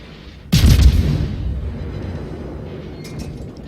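A warship's main battery fires armor-piercing shells in World of Warships: one loud, close boom with a deep low thump, then a long fading rumble and faint crackles near the end, no voices.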